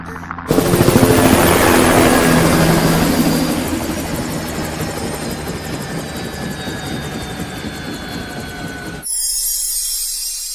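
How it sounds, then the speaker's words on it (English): A helicopter roars in loudly, its rotor chop and engine whine swelling and holding close, then cutting away abruptly near the end. "A man's coming in a helicopter."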